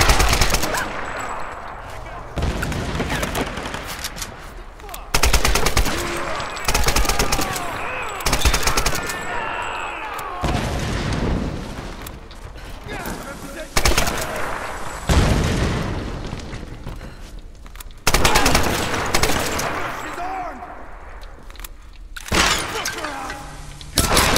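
Gunfire and explosions from the video game Tomb Raider: dense automatic bursts, sharp shots and crashing impacts arrive in irregular loud volleys, with a few quieter gaps and some voices among the fighting.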